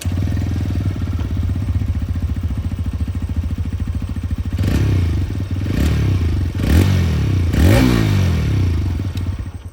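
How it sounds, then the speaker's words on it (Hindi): A TVS Raider 125 kick-start motorcycle engine idles with a steady, throbbing rumble, then is revved several times in short bursts before settling back down. "रेडर 125 ये किकस्टार्ट वाली मॉडल है इसकी भी आवाज़ आप लोग सुन लीजिए।"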